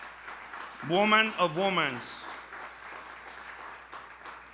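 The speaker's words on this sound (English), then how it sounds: "I want a big round of applause for her" Faint scattered applause at a DC Central Kitchen event honoring Marianne Ali, a light patter running beneath a woman's spoken line.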